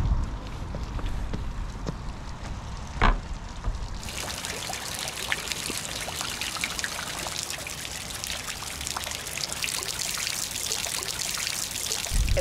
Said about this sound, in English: Should we have a little look at that fountain?